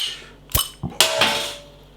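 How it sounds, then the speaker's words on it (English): A bottle of Brewdog vs Buxton Deep Slumber rye porter is opened, giving a few sharp metallic clicks and a cap pop close up, followed by a short hiss that fades. "Nice bit of smoke on the bottle opening"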